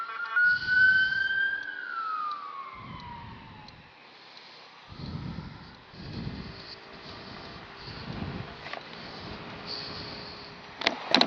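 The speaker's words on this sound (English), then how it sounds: "Here comes an ambulance." An ambulance siren wails past a moving car on a ride along, rising clearly at first, then sliding lower and fading into the distance under the low rumble of the road.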